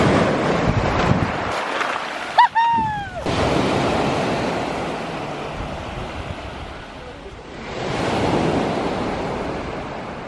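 Sea waves wash onto a sandy beach on a nearly empty shore, with steady surf and gusty wind rumbling across the microphone. A brief high cry cuts in near the start, and a broader wave surge swells up toward the end.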